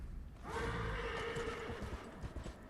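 A horse in the video game Darksiders Genesis gives a loud, close whinny lasting about a second, with a few hoof clops underneath.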